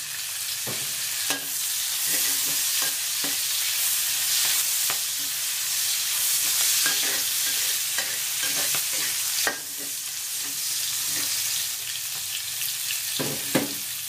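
Chili frying in a pan with shallots, galangal and salam leaves for an eel dish, a steady loud sizzle with a spatula stirring and scraping in irregular knocks throughout, close up and continuous.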